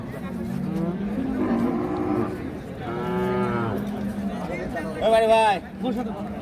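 Holstein Friesian cattle low and moo repeatedly amid a busy livestock market crowd, with one louder, nearer moo toward the end over a constant background murmur.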